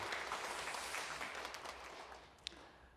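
Quiet applause from a church congregation during a Sunday worship service, a soft distant wash of clapping that thins out toward the end, with one sharp knock near the close.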